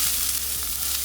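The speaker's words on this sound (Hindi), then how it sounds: "तेल गरम हो गया, इसमें हम प्याज डाल देंगे।" Onions sizzling in a little hot oil in a pan, a brief steady frying hiss heard close up without talk.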